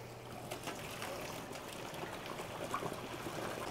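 Boiled water pours steadily out of a pot as it is drained, a soft continuous trickle and splash with a faint background hum.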